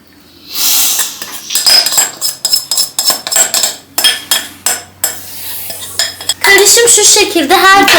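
Cauliflower mixture mashed with a utensil in a glass baking dish, giving repeated clinks and scrapes in an irregular rhythm, fairly loud and close, ending in a denser burst of scraping.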